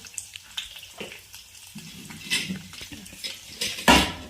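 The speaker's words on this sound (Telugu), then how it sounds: "ఇప్పుడు పోపు పెట్టుకుంటున్నా." Cumin seeds and curry leaves crackle and sizzle in hot oil in a pan while a utensil clatters and scrapes against the metal, ending in a louder clank.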